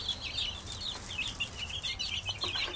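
Fifteen chicks, mostly brown red, peep continuously in a warm brooder box under a 30-watt heat lamp, a dense overlapping chorus of high chirps close by with steady low background noise.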